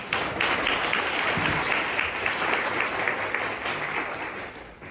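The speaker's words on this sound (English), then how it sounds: "Can we give them a round of applause?" Sustained applause from an audience honoring a committee at a community gathering, steady and full for several seconds before tapering slightly at the end.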